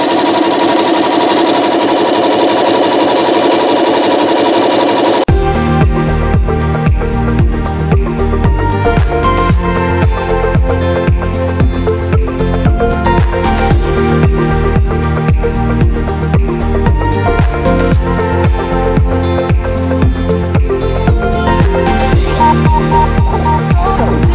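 A sewing machine loaded with two black threads starts up and runs at a fast, steady rhythmic clatter, stitching around a thread-wrapped rope bowl, loud and close with brief pauses.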